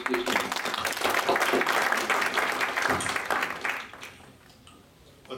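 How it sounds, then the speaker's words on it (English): Applause from an evening audience greeting a speaker at an energy-sector talk, a dense steady wash of clapping for about four seconds that thins and fades out near the end. "let's give him a big round of applause"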